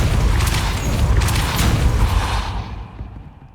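Loud, dense magical blast of the Depulso spell in Hogwarts Legacy, a booming whooshing burst with rumbling low end that fades out over the last second, heard alone without talk.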